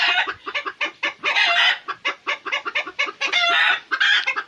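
Hens cluck loudly and insistently inside a coop, a close, dense run of rapid squawks and cackles that repeat in rhythmic bursts for the whole stretch, with no talking over them.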